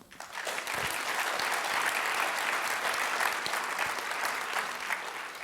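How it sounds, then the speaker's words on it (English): Sustained audience applause after a leadership talk, a dense, steady wash of many hands clapping at close range for several seconds with no voices over it. "Can we have one more round of applause?"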